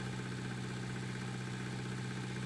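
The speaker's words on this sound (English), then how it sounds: "Come on, go! Go! You can do it! You can do it, little tractor!" A small tractor engine in Farming Simulator 19 drones steadily at a constant, moderately loud pitch, with a low, even hum and no breaks or talk.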